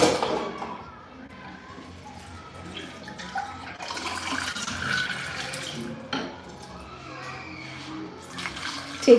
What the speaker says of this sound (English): I'm just going to pour in some water.